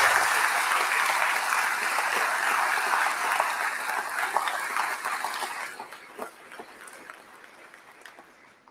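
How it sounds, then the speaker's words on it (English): A graduation audience gives a round of applause for graduates, with broad, even clapping from a large crowd that gradually thins and fades over the final few seconds. "Please join me in a round of applause."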